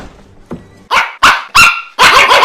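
Dog barking dubbed over a video game character's lines, with a soft yip and then four loud, close, sharp barks in quick succession.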